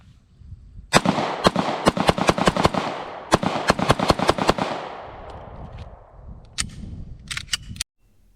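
An FB Radom VIS-100 pistol fired at a range in sharp, loud shot bursts, a rapid string of rounds, a pause, another quick string, then a final cluster of shots with echoing decay between.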